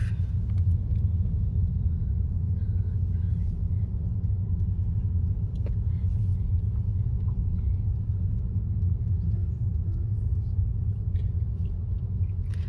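A car rolls slowly into a large hilltop car park near Whitby Abbey, its low engine rumble steady and fairly quiet throughout, with faint wind in the background.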